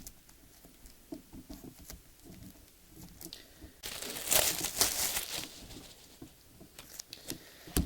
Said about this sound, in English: this, whoa, come popping right out of the sprue